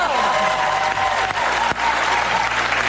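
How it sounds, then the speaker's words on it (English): A studio audience applauds loudly and continuously, dense clapping with some cheering filling the whole short span, with no talk over it. "Begging for applause."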